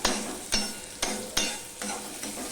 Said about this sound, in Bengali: তা আমি কাঁচা পাকা লঙ্কা নিয়েছি এবার এটা আমি ভালো করে ভেজে নেবো